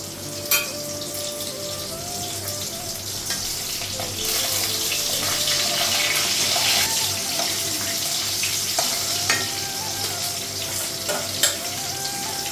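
Fish sizzles steadily frying in a pan, with scattered sharp pops and a running-water sound mixed in throughout.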